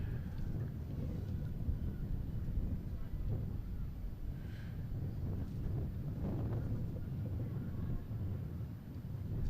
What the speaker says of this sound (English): Very windy day in southeastern Michigan.